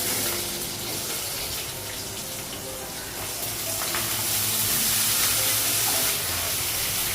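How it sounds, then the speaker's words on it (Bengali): Potatoes and pointed gourd frying in oil with dried red chillies, a loud continuous hiss and sizzle that swells slightly toward the end, with faint clatter of stirring and no talking. "আলু পটলটা লাগালাম একটু ভেজে দেবো"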